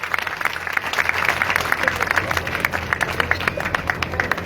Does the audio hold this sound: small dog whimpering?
no